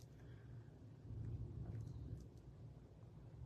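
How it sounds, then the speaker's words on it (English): A distant thunder boomer rolls as a low, soft rumble that swells after the first second and fades slowly beneath faint background hiss, with no voices present. "Did y'all hear that thunder boomer?"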